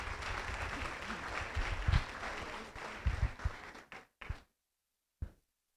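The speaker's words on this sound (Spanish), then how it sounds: "Con un fuerte aplauso le damos la bienvenida a Maricruz." A conference audience at a national food science and technology centre applauds a speaker with a sustained burst of clapping that thins out into a few scattered claps and thumps before falling silent.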